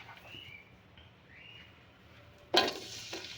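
Onion dropped into hot ghee for a mutton and okra curry, bursting into a loud, close sizzle about two-thirds through after a quiet stretch with faint bird chirps in the background.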